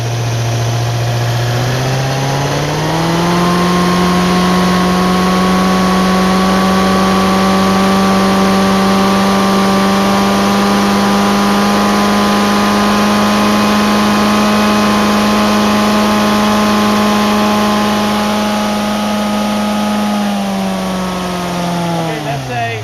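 A small engine runs steadily and loud throughout, its pitch climbing early on as the throttle is eased up, holding at the higher speed, then dropping back near the end.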